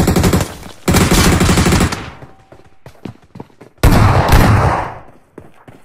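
Shotgun gunfire in a video game: loud, close blasts in dense bursts, a long volley, then a few scattered shots and another heavy burst, with no talk over them.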